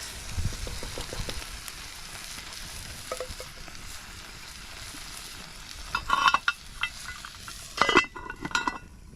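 Ingredients sizzling in a hot pan at an outback Queensland free camp while being stirred, a steady soft frying hiss broken by scraping and clinking of the utensil against the pan, growing busier toward the end.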